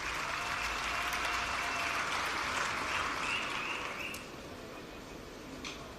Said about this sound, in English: you can applaud yourself